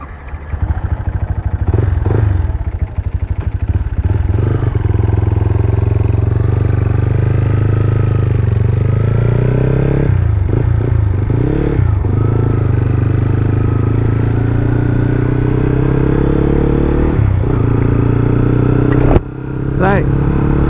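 A Yamaha FZ150i motorcycle with a 63mm bore and a six-speed R15 gearbox on a test ride: loud, close, continuous engine drone with repeated revving and gear-change dips, and a voice talking over it.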